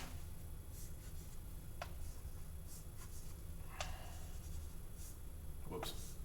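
Chalk draws vectors on a classroom blackboard: a few short, scratchy strokes and taps spaced a couple of seconds apart, faint against a steady low room hum.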